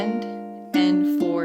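Fingerpicked ukulele pattern for the first bar of a song, with a few clear plucked notes ringing close and clean, the second and third plucks arriving as stronger, brighter attacks.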